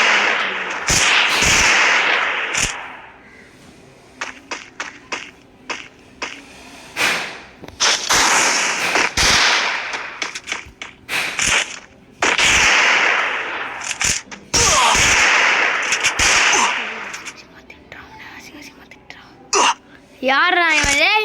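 Firecracker-like explosions go off in a video game, sharp bursts scattered among loud excited talk from a player, with a rising whistle near the end.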